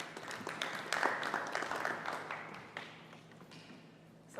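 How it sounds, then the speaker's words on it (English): Faint, thin applause from a small audience at the Saratoga Hindu Temple during Guru Purnima greets Yogi Mahendraji, tapering off after a few seconds. "a big round of applause to Yogi Mahendraji"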